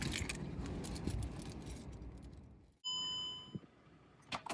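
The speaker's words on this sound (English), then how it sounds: "Grab my keys so I can show you" Car keys for a 2009 Mercedes-Benz E350 4matic jangle and rattle up close for a couple of seconds, then stop, followed by a tonal chime and a few soft clicks and thumps.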